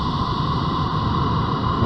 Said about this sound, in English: That sounds like space static.